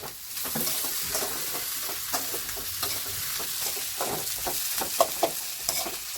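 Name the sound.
stirring tomatoes frying in a pan for chicken curry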